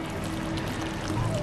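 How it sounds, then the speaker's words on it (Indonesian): Sauce is poured over fried gourami fish, giving a short, soft, continuous liquid splashing and trickling sound at close range. "siramin aja kuahnya ini di atasnya."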